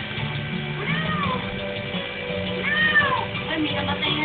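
A cat meows in several drawn-out calls, two clearer rising-and-falling cries standing out over background noise and chatter.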